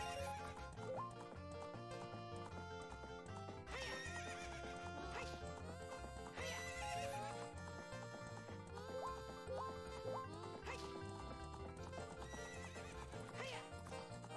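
Epona, the horse in Zelda: Ocarina of Time, neighs and gallops with steady clip-clop hoofbeats, set against continuous game music.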